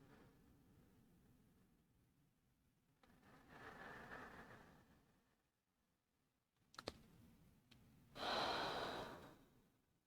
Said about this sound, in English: We'll say about 3 more deep breaths.